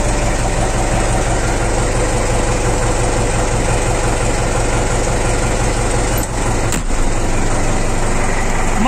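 A tractor engine idles in winter cold, a loud, close, unbroken diesel-like rumble that holds steady throughout with only a brief dip near the end.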